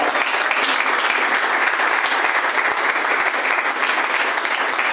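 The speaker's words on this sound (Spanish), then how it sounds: "Dale un fuerte aplauso al Señor." Loud, dense congregation applause in a Spanish-language church service, a continuous roar of many hands clapping close by, sustained evenly without talk.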